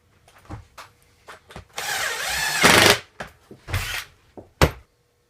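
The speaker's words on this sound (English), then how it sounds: "Put these screws back in." Screws being driven back into a homemade Foreman-style pocket hole jig, with a power drill whirring in two sustained bursts between short clicks and knocks of handling the tool and workpiece.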